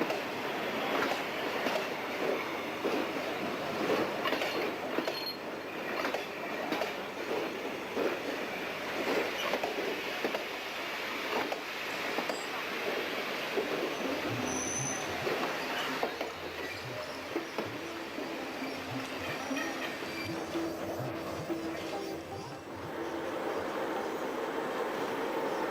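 A train runs along the rails of a large railway network with steam locomotives, giving a continuous rumble with faint rhythmic wheel clatter and occasional squeals that hold steady for over twenty seconds.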